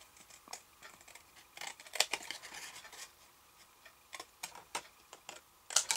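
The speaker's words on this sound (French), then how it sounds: "Là je prends mon ciseau, je découpe" Paper being cut with scissors at a tabletop, producing a series of crisp snips and small clicks, close and fairly quiet, in irregular bursts with brief pauses between.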